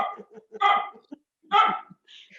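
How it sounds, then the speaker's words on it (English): A dog barks indoors in a kitchen during slow-cooker meal preparation, two loud, close barks a second apart with a few softer yips and whimpers between them. "The dog's barking."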